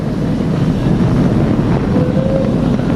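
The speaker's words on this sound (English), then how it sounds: "Flying crew on board Dragon and Falcon 9, and look at them go." SpaceX Falcon 9 rocket carrying a crewed Dragon capsule roaring during launch, a loud, continuous low rumble with buffeting, wind-like turbulence throughout.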